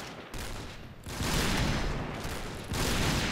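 Gunfire from sniper mode in the Point Blank online shooter, a dense burst of shots that drops out briefly and then returns, loud and continuous with no talking over it.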